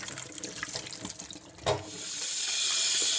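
Water pours and splashes into a sink as soaked morel mushrooms are drained, then settles into a steady, rushing stream like a running tap, close by.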